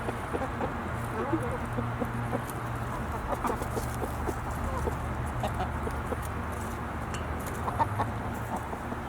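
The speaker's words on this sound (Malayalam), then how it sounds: "ഇത് കോഴികളെ ക്യാരറ്റ് കഴിച്ചോ." Farmyard chickens clucking in a steady low chorus close by, with brief scattered calls rising over a constant background hum and no one talking.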